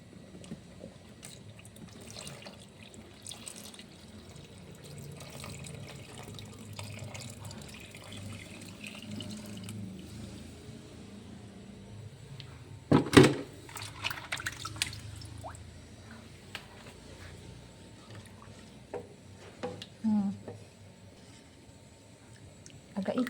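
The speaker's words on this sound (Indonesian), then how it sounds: "Ini kita masukkan air gulanya tadi ya." Sugar water pours into a pot in a quiet outdoor setting, a soft steady trickle with dripping, broken by a sharp clatter midway and a few later knocks.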